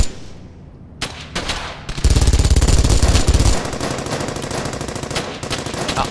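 An MG42 machine gun fires in the shooter game Brothers in Arms: Hell's Highway, with a few sharp single shots leading into loud, rapid sustained bursts of automatic fire.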